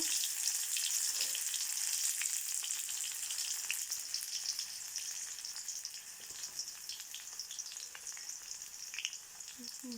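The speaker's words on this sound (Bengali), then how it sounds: "পেঁয়াজ আছে তারপরে মরিচ তারপরে চিংড়ি মাছ এগুলা দিয়ে ভাজি করতে হবে" Onions, chilies and shrimp fry in a pan, giving a steady, close bright sizzle with faint crackles throughout and no talking.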